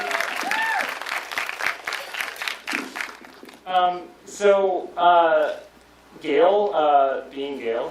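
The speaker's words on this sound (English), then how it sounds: "So give both of us a round of applause." Audience at a retro gaming chat applauds a guest, formerly of Nintendo of America; dense clapping fills the first few seconds, then fades as voices talk over the rest.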